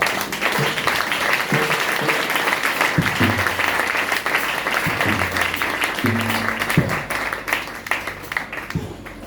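Church congregation applauding and cheering together during a morning service, a sustained dense clapping crowd with scattered voices and shouts mixed in throughout.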